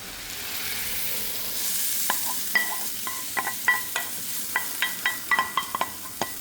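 Onion soffritto sizzles steadily in a pan while a utensil stirs it, giving a string of sharp scraping clicks against the constant frying hiss. No voices are heard.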